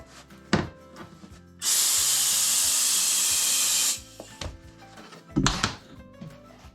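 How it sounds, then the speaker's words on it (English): A steady, loud burst of air hissing into a leaking tire for about two seconds, framed by brief clunks and handling noises before and after. "And then we'll put a little air in it."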